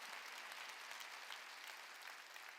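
A church congregation at a Wednesday worship service claps together in steady, dense applause that fills the room, fairly quiet overall and sustained evenly throughout with no voices.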